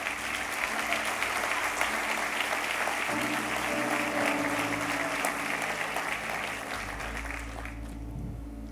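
An audience applauds steadily throughout, a dense, loud wash of clapping from a crowd at a motivational talk, with no voices over it.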